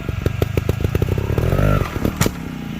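A dirt bike crossing a log off-road, its engine popping rapidly at idle, then revving up as the clutch is let out to hop the bike over, with a sharp clatter near the end; loud and close.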